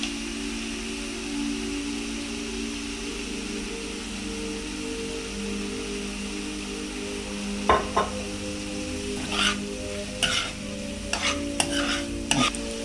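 Vegetables and soy sauce stir-fry over a high flame for momo filling, a constant soft sizzle with a low steady hum beneath it, then a run of spaced sharp clacks of a utensil against the pan in the last few seconds.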